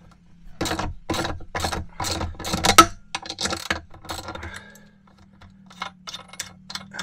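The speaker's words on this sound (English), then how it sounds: "One is a lock nut, taking that off, and then I take off the standard nut with the washer." A lock nut, then a standard nut and washer, come off an RV seat belt anchor with a run of rapid metallic clicks and rattles, followed by lighter scattered ticks and clinks close by.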